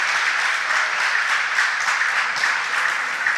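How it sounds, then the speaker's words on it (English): An audience at a school quiz contest gives a student contestant a steady round of clapping, close and continuous throughout. "Please clap for him."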